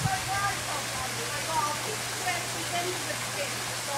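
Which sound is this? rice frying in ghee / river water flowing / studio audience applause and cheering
river water flowing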